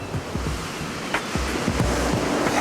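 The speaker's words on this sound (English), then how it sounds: "The swells just stands up, throws out and barrels and just ends up rolling all the way into the rocks." Ocean swells break and barrel, then roll in loudly against coastal rocks, a continuous crashing surf with wind buffeting close to the microphone.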